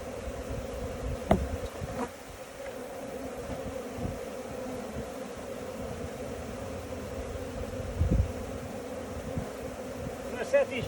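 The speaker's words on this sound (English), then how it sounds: "God, that's a lot of bees." A large swarm of honeybees buzzes steadily and close throughout, a dense, continuous drone with a few louder bursts and occasional handling noises.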